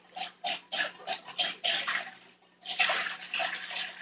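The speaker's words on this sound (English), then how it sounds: "So I'm going to give this whisk in the bottom of my bowl" Whisk scraping against the bottom of a bowl while a herby vinaigrette is mixed, in quick bursts of wet swishing and rattling, close up and alone.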